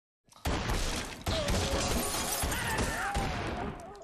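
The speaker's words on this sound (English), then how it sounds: "Why is he shooting at a house again?" Movie gunfire at a house, a loud burst of rapid shots with shattering impacts and debris, heard as film audio playing in the room for a few seconds.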